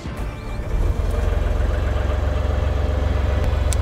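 Tronair Eagle TTR aircraft tow tractor engine cranking and catching, then settling into a steady, loud, low idle with even rhythmic pulsing.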